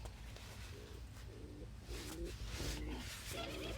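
Several soft, low cooing phrases from a pigeon or dove, repeated in a steady rhythm close by over a constant background hum, with no voices.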